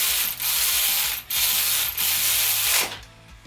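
Bolt run through the tight, dirty threads of an LS engine block head-bolt hole to clean them, giving a repeated grinding, rasping ratchet-like sound in several strokes with brief breaks, close and loud.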